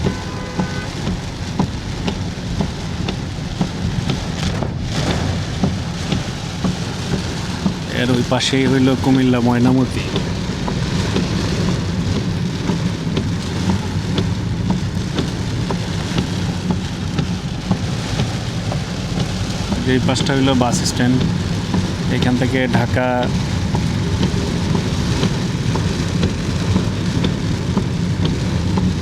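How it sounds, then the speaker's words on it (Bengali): Steady rain pours down outside a market near the Cumilla cantonment bus stand, a continuous loud wash with occasional heavier drips, while someone talks over it. "তো বৃষ্টি কখন থামবে জানি না"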